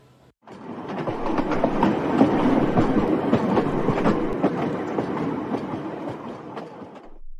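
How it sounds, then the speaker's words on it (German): Train rolling through a station as it departs, with steady rumbling and rhythmic clickety-clack of wheels over rail joints, loud and continuous from the start to the end. "Der Zug müsste bald abfahren."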